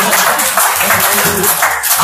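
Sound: audience applause

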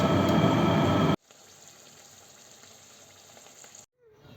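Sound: malpua frying in hot oil

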